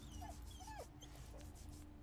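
In Baldur's Gate 3, a petted dog lets out soft whimpers and little whines, two or three short rising cries over about two seconds, faint against a low hum.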